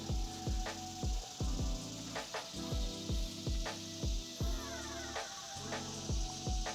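Hissing spray of water from an MP rotator sprinkler head with a rapid repeating ticking rhythm, close up and continuous throughout.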